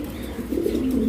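Pigeons coo in a low, throaty rolling murmur, close by and steady, swelling slightly louder toward the end with no talking.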